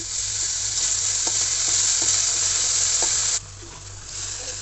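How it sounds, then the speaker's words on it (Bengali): Onion, chili, ginger and garlic frying in a pan for a fish curry, a loud, close, steady sizzle with a few soft stirring clicks, dropping in level near the end. "আদা রসুনটা ভালো করে ভেজে নিচ্ছি"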